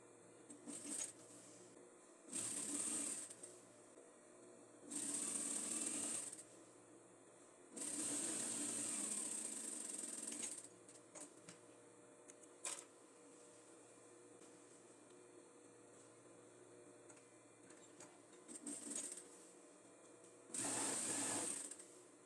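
A sewing machine stitches the side seams of a flared denim skirt in five separate bursts, each lasting one to three seconds, with quiet pauses between them and no talking.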